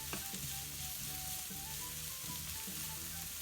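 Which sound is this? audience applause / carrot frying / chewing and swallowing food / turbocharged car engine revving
carrot frying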